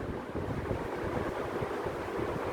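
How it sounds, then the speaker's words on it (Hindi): An engine radiator cooling fan, switched on through an actuation test with the key on and the engine off, runs as a steady, loud whooshing roar of moving air that continues without a break. "हमने ऑन करा और पंखा ऑन हो जाता है"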